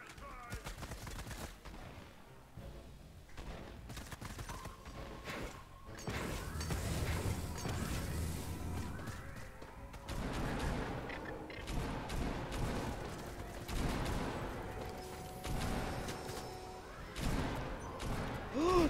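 Drum gun fire in the Fortnite video game rattles in rapid sustained bursts, mixed with other gunshots, crashes and game effects, loud and dense, while a player talks over it.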